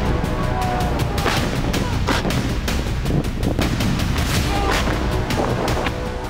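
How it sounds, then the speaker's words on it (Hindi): Cannon and artillery fire in a Chinese army war drill crack out as dense, rapid booms and blasts, overlapping and loud, over a rumbling background. "तोप से विध्वंसक प्रहार"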